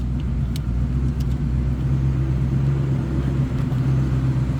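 A 1965 Ford Mustang convertible's 289 V8 idling steadily, a low even rumble heard close and constant without revving.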